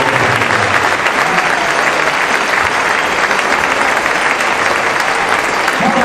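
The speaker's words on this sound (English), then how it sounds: "Let's give him a round of applause." A crowd at a community celebration for the Metamora Redbirds Class 3-A state champions gives a round of applause for announcer Gary Baranowski, dense steady clapping filling the room without pause.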